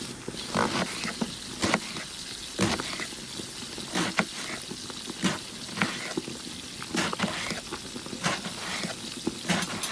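Chicken wings cook over low heat in a pan, giving a soft crackling sizzle with irregular louder pops and the clatter of pieces being turned, fairly close and with no talk.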